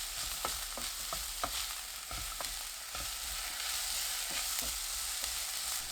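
Shiitake mushrooms and onion stir-frying over medium heat with minced garlic and scallion, a constant soft sizzle broken by repeated quick scraping taps of a spatula in the pan, close and quiet, no talking.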